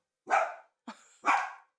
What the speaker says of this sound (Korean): 저렇게 짖는데